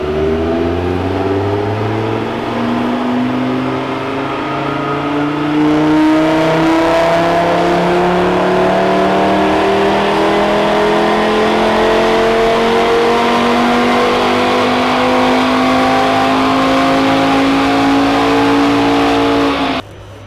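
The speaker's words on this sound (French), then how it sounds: "Et on va faire une accélération pied au plancher." An Audi RS3 at full throttle on a dyno in fifth gear, starting low in the revs: a loud, steady engine roar climbing smoothly in pitch for about fifteen seconds, then cutting off abruptly as the throttle is released.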